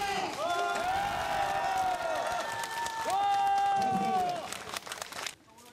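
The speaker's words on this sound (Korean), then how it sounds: "어마어마한 함성과 함께 손바닥에 불이 나도록 큰 박수 부탁드리겠습니다" Crowd at an outdoor political rally in Gangdong-gu, Seoul, cheering, whooping and applauding loudly and steadily, with swelling shouts, then tapering off near the end.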